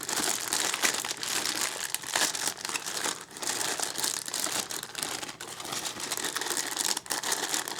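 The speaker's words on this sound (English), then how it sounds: "So let's get this little baggie open." A small plastic baggie from a dinosaur toy egg kit is handled and pulled open up close, with dense continuous crinkling and rustling and a few sharper crackles.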